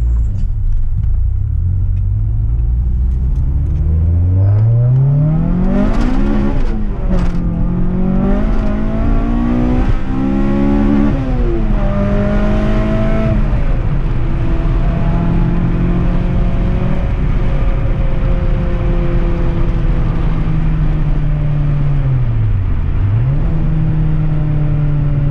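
A Honda Integra Type-R DC2 (JP-spec) on slick tyres is driven hard, the engine climbing and dropping through repeated loud revs with gear changes, heard from inside the car with a constant road and engine roar.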